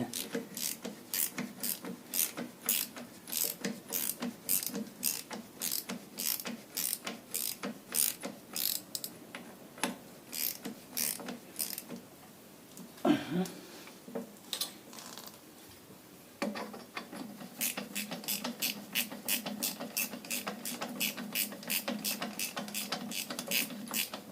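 Parts of a pallet jack are screwed together during a repair, a fast rhythmic run of ratcheting clicks that pauses, gives way to a brief scraping clunk, then resumes steadily.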